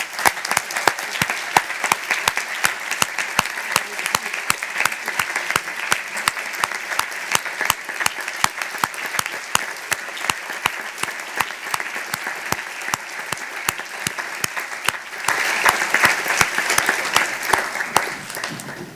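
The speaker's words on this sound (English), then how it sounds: "This is your applause." Sustained applause from the audience at a model UN general assembly closing ceremony as the delegates stand, dense steady clapping throughout that swells slightly louder near the end, with no talk over it.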